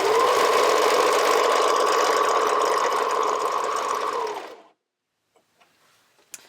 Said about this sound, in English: just keep sewing until you get to the end of your elastic